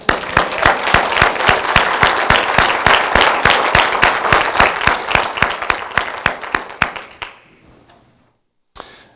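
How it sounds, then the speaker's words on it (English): Audience applause at a city's State of the City address: dense, loud clapping holding steady for about seven seconds, then fading quickly into near silence with a brief noise at the end. "he would say that that deserves a round of applause"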